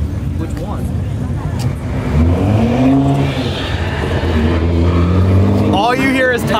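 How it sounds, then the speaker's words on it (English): Race car lapping a track at high speed, with steady broadband tire roar over a droning engine tone that rises and falls; a voice cuts in briefly near the end. "All you hear is tire noise."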